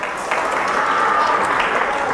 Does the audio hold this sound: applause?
yes